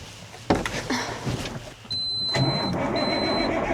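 A semi truck's diesel engine idles steadily while warming up, a low continuous rumble joined by a sharp knock and a thin high whine, with faint mechanical clicks and shuffling nearby.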